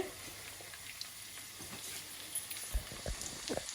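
Onions frying in hot oil for Sylheti lal birun chawl biran, a steady soft sizzle with a few scraping stirs and small clacks near the end, fairly quiet and without voices.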